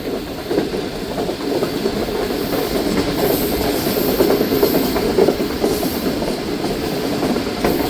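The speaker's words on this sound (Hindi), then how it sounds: "कंटेनर भी लगा हुआ है पार्सल ट्रेन के साथ।" A parcel train with an attached container passing close by, a loud steady rumble with rhythmic wheel clatter and occasional squeals, no voices.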